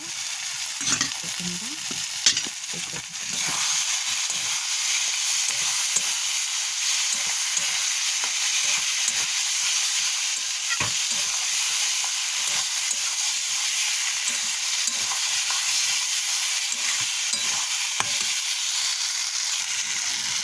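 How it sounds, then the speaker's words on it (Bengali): Potatoes for fish curry frying in a pan, a loud, constant close-up sizzle with a few clattering stirs near the start and occasional utensil knocks afterward. "মাছের জন্য আলুগুলো কেটেছিলাম, আলুগুলো দিয়ে দিচ্ছি, দিয়ে আলুটা একটু কষিয়ে নেব।"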